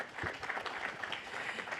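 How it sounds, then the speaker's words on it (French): Conference audience applauding at the close of a talk, a steady wash of many hands clapping that fills the short moment at moderate loudness. "On peut vous applaudir tous les trois."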